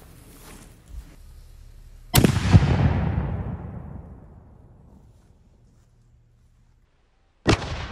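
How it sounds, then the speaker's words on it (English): A cannon fires a bouncy ball at a 3D-printed ABS plate: one sharp, loud boom with a long rumbling decay lasting about three seconds, then quiet before a second abrupt impact crack near the end; no talking. "So we'll load something up in our cannon here."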